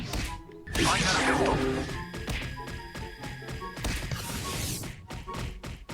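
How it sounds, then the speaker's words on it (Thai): A stingray mount explodes in the Roblox game Rider Blox, a loud burst of crashing, thudding impact noise followed by a dense, lingering rumble of game effects. "ถึงเวลาหนึ่งมันก็จะระเบิดนะก็ทำดาเมจใส่ศัตรูนะครับผมนะ"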